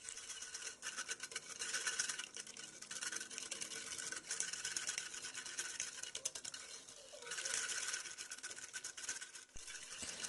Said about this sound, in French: je vais tout mélanger avec ce fouet à la main